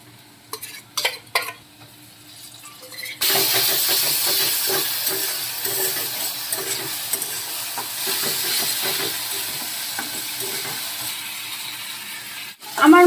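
Ground chilli, ginger, cumin and garlic paste go into a pan of lightly fried onions and break into a loud, steady sizzle and hiss. The frying carries on for about ten seconds under scraping stirs, after a few quieter clinks at the start.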